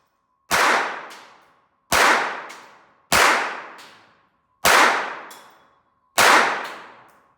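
Five Colt 1908 pistol shots in .25 ACP, each a sharp crack followed by a decaying ring, spaced at a steady, unhurried pace over near silence.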